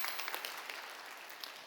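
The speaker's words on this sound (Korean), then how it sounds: "여러분 인사할 때 큰 박수로 환영하실까요?" Church congregation claps to welcome a newly arrived pastor during a service; soft, distant applause with scattered individual claps, continuous and fairly quiet throughout.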